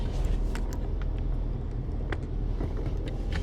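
A 2015 Chevy 1500 pickup with a 7-inch lift kit rolls to a stop while parking, its engine a steady low rumble close to the mic with faint wind noise and no talk.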